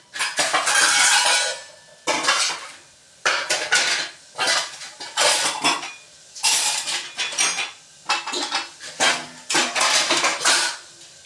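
An empty cooking pot is set down on a gas stove to heat for tempering, bringing loud, close metallic clatter and clinks of pots and utensils in repeated bursts, with no talk.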